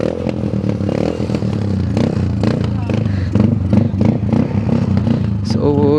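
A fully modified Suzuki Fiero motorcycle with an aftermarket exhaust revs nearby, its engine crackling and pulsing in uneven bursts with a high-pitched squeal near the end, while people talk around it.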